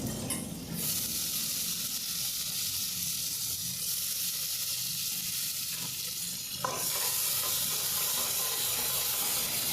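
Garlic paste and prawns frying in a hot pan for a Bengali bottle gourd and prawn dish, a steady loud sizzle and hiss with stirring scrapes, surging briefly near the end.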